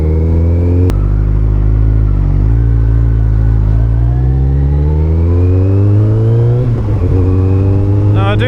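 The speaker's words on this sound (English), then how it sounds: "this is obviously a ZZR 1400" A Kawasaki ZZR 1400 (ZX14R) motorcycle accelerates, its loud, close engine drone climbing steadily in pitch through a long pull and dipping briefly near the end.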